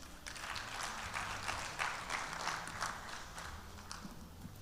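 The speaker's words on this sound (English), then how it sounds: "Please, a big round of applause for her, ladies and gentlemen" A conference audience claps in a sustained, even wash of applause, fairly faint and distant, with individual hand claps blurring together over about four seconds.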